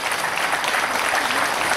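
A crowd applauding for a performer, dense continuous clapping that stays close and loud throughout the short stretch, with no break or voices standing out.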